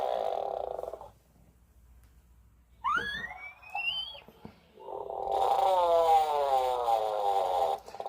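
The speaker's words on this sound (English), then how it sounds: "That's the way a tufted puffin sounds." Low, groaning, rasping calls from a tufted puffin come in separate bursts with quiet gaps between, the last one long and drawn out.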